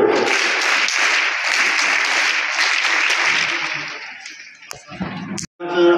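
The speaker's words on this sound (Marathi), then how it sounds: "आपण सुद्धा स्काउट पद्धतीने जोरात टाळ्या वाजवून या विद्यार्थ्यांचं अभिनंदन करूया।" A crowd gives loud, dense applause at a school ceremony honouring students, the scout-style clapping sustained for about four seconds before thinning out into a few scattered claps and faint voices.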